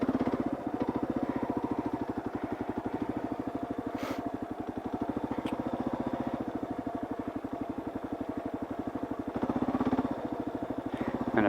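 A KLR650 motorcycle running steadily during low-speed clutch drills, its single-cylinder engine thumping in a fast, even rhythm, close and continuous, with brief revs near the end.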